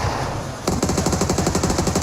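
Automatic gunfire in PUBG Mobile during an esports match bursts in as a rapid, loud string of evenly spaced shots after a short lull of game ambience.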